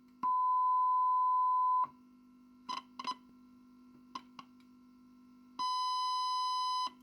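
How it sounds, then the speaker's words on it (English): A clean sine wave tone is probed at the input of an Ibanez SD9 distortion pedal, a steady pure pitch sounding for about two seconds, then short clicks and crackles of probing, then the tone again. "this is the clean sine wave"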